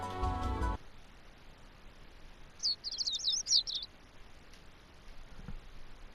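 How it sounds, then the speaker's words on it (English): Birds chirping in a quick burst of high, bright tweets after a brief musical tone, set over a quiet breezy background. "The sound of birds chirping slowly raises me from my dream into consciousness."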